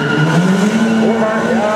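A 300 hp front-wheel-drive Seat Leon race car does a burnout at a city race demo in Assen, with loud continuous tire squeal and engine roar filling the whole moment.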